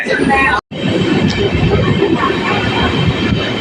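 Train 20604 with Chennai ICF-built coaches rolls into platform 1 at Sattur railway station, a steady, close, broadband rumble of wheels and carriages that carries on throughout.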